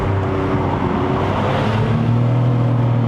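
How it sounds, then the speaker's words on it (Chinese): A Lexus RC350 with a V6 engine downshifts from third to second gear, heard from inside the cabin as a loud, continuous engine drone whose pitch shifts partway through. "OK， 我再试一下3号去2号啊。"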